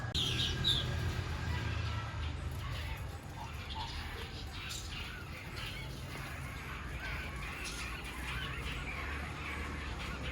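Birds squabble in a palm tree in Las Terrenas, Dominican Republic, a continuous chatter of chirps and calls in the background over a low outdoor rumble.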